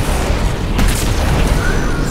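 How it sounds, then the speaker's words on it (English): A heavy artillery explosion in the Halo 2 video game rumbles loudly, with a deep sustained boom and roaring blast noise filling the moment. "What's the sound of artillery?"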